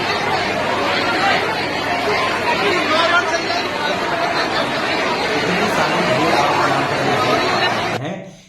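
Dense crowd chatter from a packed crowd at BPSC teacher document verification in Gaya: many overlapping voices form a loud, continuous babble that cuts off abruptly near the end.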